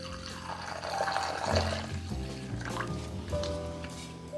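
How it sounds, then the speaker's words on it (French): A flamed Blue Blazer cocktail is poured into a glass, giving a soft, continuous liquid trickle and splash that sits close and fairly quiet, with faint background clatter. "Et on verse ça donc dans le verre."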